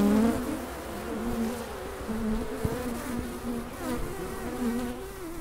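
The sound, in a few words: honey bees buzzing around a beehive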